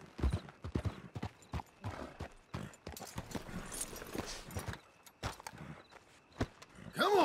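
A horse's hooves clip-clopping in Red Dead Redemption, arriving at the Blackwater police station: irregular close hoof strikes at a walking pace, with a brief pause and a voice speaking near the end.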